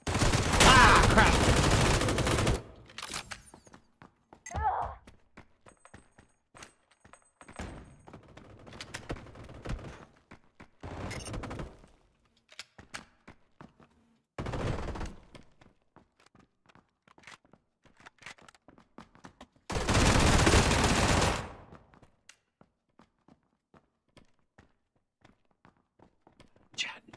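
Gunfire from a PUBG match comes in several loud bursts of automatic fire, with footsteps and quieter single shots between them. A player's voice is heard now and then.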